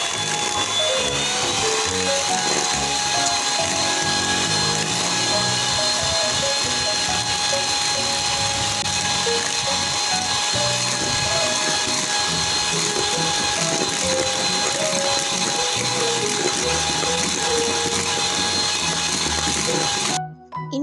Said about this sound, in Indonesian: Dan ini kita kocok dengan speed tinggi sampai putih kental berjejak.